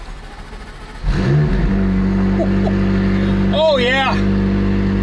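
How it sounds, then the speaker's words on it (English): A McLaren LT cranks and fires up, then settles into a loud, steady idle with a raspy revving rise near the end; a person exclaims briefly as the engine catches. "Let's just start the car up."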